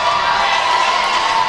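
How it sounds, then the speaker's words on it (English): Excited fans roar and shout steadily in a gym during a college basketball event at Baruch, a dense, continuous crowd wash with no distinct claps standing out. "We have a very excited crowd."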